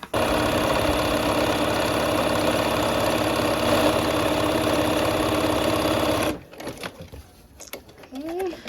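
Sewing machine stitching quilt fabric a quarter inch from a marked diagonal line on light blue fabric, running as a steady, continuous mechanical whir for about six seconds, then stopping abruptly, followed by quiet handling noises.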